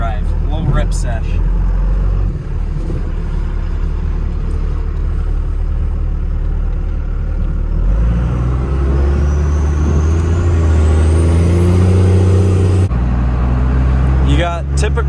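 A built 24-valve second-generation Cummins diesel truck driving, its loud engine droning and rising through the gears with a whining climb, close from inside the cab, while someone talks over it.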